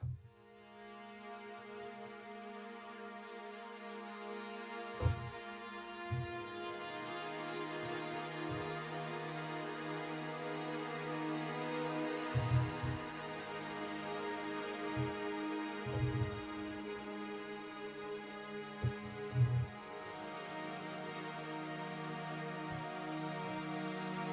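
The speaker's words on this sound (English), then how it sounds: "This is more of like the ambient outer space sounds." Slow, reverberant synth pads from a glass strings software instrument swell and hover in a spacey ambient drone, with soft low pulses appearing now and then.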